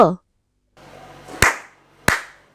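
Two sharp hand claps ring out about half a second apart, marking the two syllables of a word in a first-grade Marathi reading game, after a short voice and a quiet pause.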